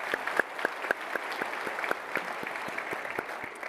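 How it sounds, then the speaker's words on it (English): An awards ceremony audience at a tech keynote claps in a steady patter of many hands, moderately distant and thinning slightly toward the end, with no speech over it. "Let's give them the biggest round of applause."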